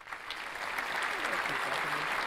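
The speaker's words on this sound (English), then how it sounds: "Crowd going crazy for Big Bethany." A crowd at a virtual wrestling event in Second Life applauding and cheering in a dense, steady roar of clapping, with a commentator talking over it.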